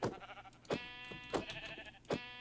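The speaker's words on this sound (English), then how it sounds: "Alright, so I'm gonna need to kill you, sheep." Sheep in the video game Minecraft bleat four times in a row, close and clear, each a short wavering call at an even pace.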